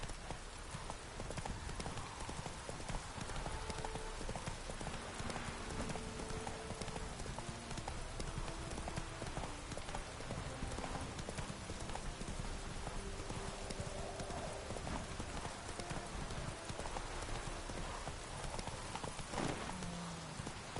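A horse gallops in The Witcher 3, the rapid drumming hoofbeats loud and continuous over a dense wash of game noise, with music faintly beneath and no talk.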